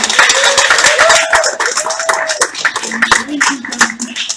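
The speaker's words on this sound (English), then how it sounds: "Okay, round of applause." Dense, steady audience clapping at a university show's press launch fills the whole stretch, with a tonal voice or music line running underneath and some talk mixed in.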